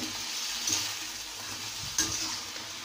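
Vegetables being stirred in a frying pan for Bhogi sabji with salt and turmeric powder added, a steady sizzle throughout with a couple of soft scraping knocks from the spoon against the pan.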